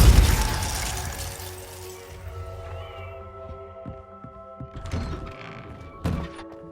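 Depulso spell cast in Hogwarts Legacy, opening with a heavy burst that fades into a humming, tonal magical tail, followed by two softer whooshing impacts later on.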